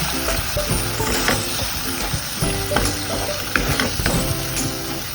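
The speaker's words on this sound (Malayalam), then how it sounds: "നമുക്ക് ഇതിനൊന്ന് ഇളക്കി കൊടുക്കാം." Kashmiri chilli powder being stirred into a spiced wheat dosa batter mixture with green chillies, giving steady frying sizzle and scraping stir strokes, close and continuous with no talk.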